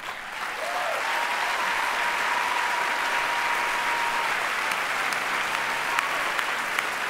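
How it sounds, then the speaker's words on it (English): Sustained applause from a large audience at the 2006 Spirit Awards ceremony, steady and dense clapping filling the whole stretch with a faint tone running underneath. "Please join us in applauding all these astonishing actors."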